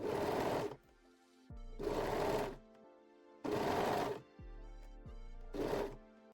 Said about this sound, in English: we can sew both seams with a serger or a zigzag stitch